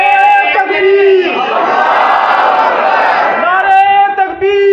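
A gathered crowd chants Allahu Akbar in loud unison in answer to a takbir call, a single sustained roar of many voices between a lone preacher's shouted lines at either end.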